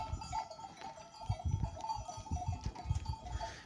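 A flock of pregnant sheep bleat at close range over a low rumbling of hooves and movement, several overlapping calls in short bursts, with faint clinking like a bell in the background.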